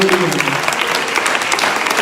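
A church congregation claps during a sermon, loud continuous applause filling the room, with a voice briefly heard over it at the start.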